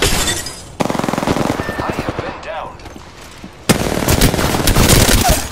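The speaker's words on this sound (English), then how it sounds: "Some shots." Rapid automatic gunfire rattles in dense, loud bursts during a squad battle in Apex Legends, continuous stretches of close shooting with a brief lull before another heavy volley.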